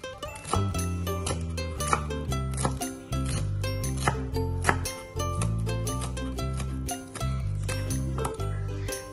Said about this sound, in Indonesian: Kan rajang kasar daun bawangnya ya, dipotong-potong seperti ini aja